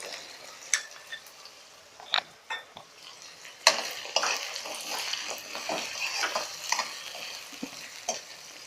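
Potatoes, capsicum and green chillies fry in a pan, with a soft sizzle broken by irregular scraping and clinking stirs, growing busier and louder partway through.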